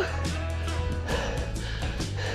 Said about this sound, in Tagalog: Kaya sobrang rin ang hingal natin.